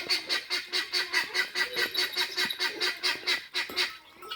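Guinea fowl call in a fast, steady run of harsh, rhythmic cries, about three per second, fairly close and loud, on a rainy farm with goats, cattle, dogs and chickens, with a faint tonal background and no talk.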